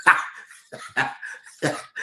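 A dog barks in four or five sharp, separate bursts spaced irregularly over about two seconds, close and fairly loud with no talking.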